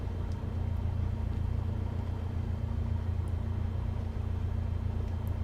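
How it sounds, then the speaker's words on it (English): Steady low engine drone of a simulated aircraft in Microsoft Flight Simulator during night flying, a continuous even rumble with no talk over it. "At night I rely more on the sound of the engine also."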